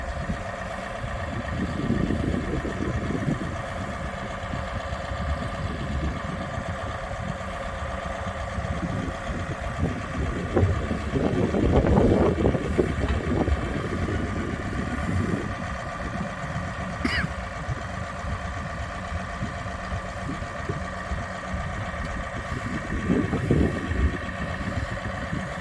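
A tractor engine idles on a homestead, a steady low rumble throughout with a few swells where the engine note grows rougher and louder, no voices present.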